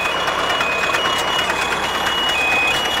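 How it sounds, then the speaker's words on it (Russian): A CLAAS 46 baler's warning buzzer sounds before net wrapping, a steady high electronic tone held throughout over the loud rumble of farm machinery close by. "Вот, зумер сработал."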